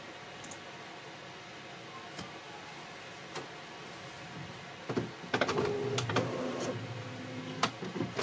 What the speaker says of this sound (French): Elle a entendu l'imprimante.